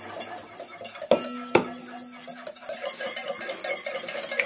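A whisk scrapes and clinks quickly against a bowl as homemade mayonnaise is beaten with oil added a little at a time. The rhythmic metallic ticking runs throughout, with two sharper ringing knocks near the start.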